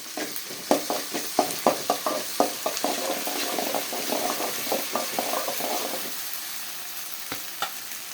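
Ginger garlic paste sautéing in a pan, with busy clattering stirs over a dense, steady sizzle that settles into a softer hiss near the end, close up and without talk.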